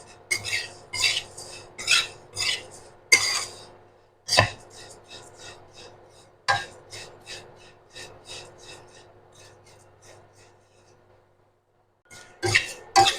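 Flattened rice (chira) dry-fried in a pan, heard as a series of rough scraping strokes of a spatula through the flakes, irregular and close, with pauses between bursts and a quiet gap near the end.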